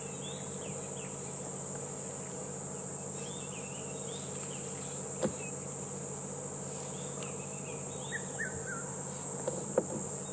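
Steady high-pitched cricket chirring throughout, with faint bird calls in the background and a couple of soft clicks.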